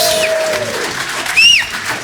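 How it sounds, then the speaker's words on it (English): A live audience at a Peter Coles studio taping cheers and claps, a broad, even wash of applause with a whistle rising briefly partway through. "Give us a cheer."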